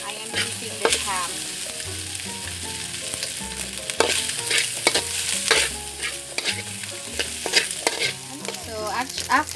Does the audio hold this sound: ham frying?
yes